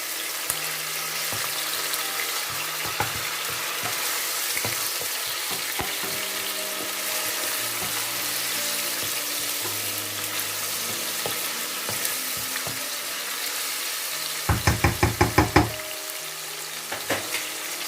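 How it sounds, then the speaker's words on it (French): Leek hits hot oil in a frying pan for a gizzard sauté, raising a steady loud sizzle with stirring scrapes and clinks throughout, and a brief burst of rapid metallic taps near the end. "Donc là, je rajoute mon poireau."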